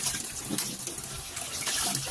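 Hot water pours steadily into a cup for coffee, a close, continuous splashing rush that stays even throughout, with no voices.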